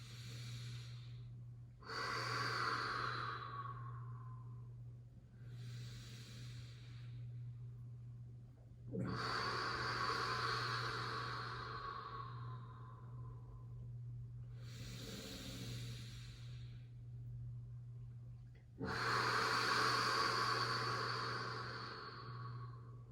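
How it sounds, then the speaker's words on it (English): Slow, deep yoga breathing, with long airy inhales and exhales alternating for several cycles, each a soft hiss through the nose or mouth close to the mic, over a steady low hum and with no talk. "Breathing all the way out."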